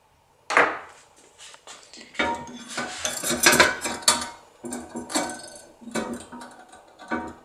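Metal tools clattering and scraping against an Italian Securemme safe lock while a magnetic screwdriver turns a screw, close clinks and rattling bursts after a brief silence, rising and falling in uneven clusters.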